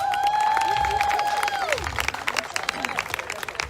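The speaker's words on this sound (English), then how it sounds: "So give her a round of applause." A crowd at an outdoor social justice march in Bermuda claps to welcome a speaker; scattered applause mixes with a sustained tonal whine early on and crowd noise throughout.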